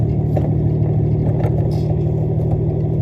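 A semi truck pulling away in its starting gear, its diesel engine giving a loud, steady low rumble with clattering texture, close by and with no talking.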